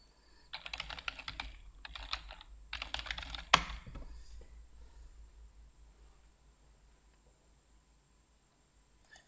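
Typing a search term on a computer keyboard: three quick bursts of rapid keystrokes with short pauses between them, then a single sharp click, followed by quiet room tone.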